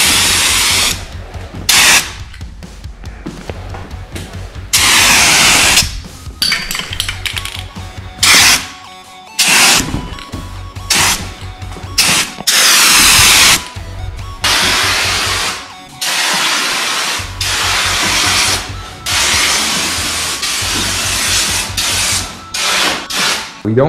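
A Rust-Oleum Turbo spray paint can applying a second coat, loud hissing spray bursts up close, repeated in on-off passes of varying length with short breaks between.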